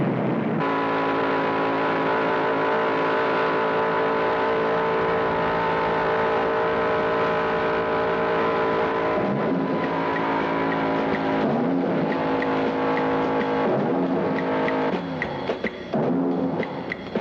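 A field of about 40 NASCAR late-model stock cars racing at the 1968 Southeastern 500 on Bristol's half-mile track, a continuous loud engine roar with cars surging and passing, pitch shifting as they accelerate through the turns.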